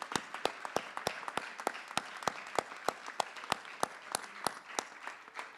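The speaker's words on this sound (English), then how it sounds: "give them a big round of applause" Sharp, evenly spaced claps from a small group at a maritime welding competition, a steady crisp rhythm of individual hand claps fairly close, with no voices.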